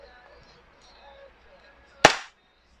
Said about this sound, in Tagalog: Medyo malakas kasi yung tunog ng high kappa.